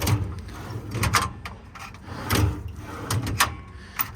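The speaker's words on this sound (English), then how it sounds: "center grip drawers seem to hold up pretty well. They're real heavy duty." Heavy-duty Eberhard center grip metal drawers on a 2013 International mechanics crane truck sliding open and shut, several rolling scrapes and thuds spread over a few seconds, close and fairly loud with no talking.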